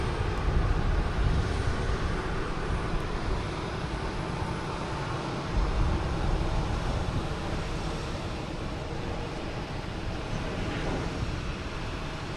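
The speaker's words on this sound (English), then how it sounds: "We have American Airlines coming in. Flight 12 from LAX." An American Airlines jet arriving from LAX passes over Boston Logan Airport, a broad steady engine roar mixed with wind buffeting the microphone, sustained throughout with no talking.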